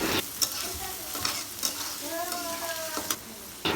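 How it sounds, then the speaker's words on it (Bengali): Chopped garlic, onion and green chili fry in oil with a steady sizzle and occasional stirring clicks, a short voice briefly audible partway through. "রসুন কুচি, পেঁয়াজ কুচি, সামান্য কাঁচামরিচ কুচি দিয়ে তারপর আর একটু তেল দিয়ে কিছুক্ষণ ভেজে নিলাম"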